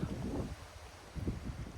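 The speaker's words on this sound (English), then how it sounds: "this wind is just crazy." Strong wind gusting through a garden, a broad low rumble with buffeting noise against the microphone, swelling in two surges with a lull between, no talk.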